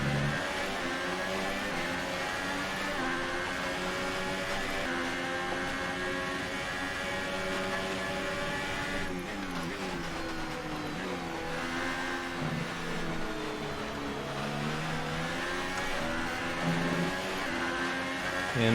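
An F1 race car engine at maximum power in the video game F1 2018 at the Japan circuit, a continuous loud high-revving whine rising and dropping through gear changes, with no speech.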